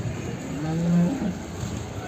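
A heavy buffalo at a buffalo market gives one low, drawn-out moo close by, rising and falling over a second against steady outdoor background noise.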